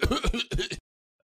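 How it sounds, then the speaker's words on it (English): A man's harsh, throaty bursts come in two quick clusters, loud and close, like rough coughing or throat clearing, and then stop in silence. "Why are you coughing"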